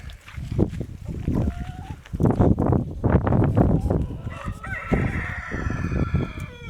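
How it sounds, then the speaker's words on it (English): Chickens cluck and squawk close by on a high-altitude farm while a rooster crows loudly, with several birds calling over one another. "our chickens."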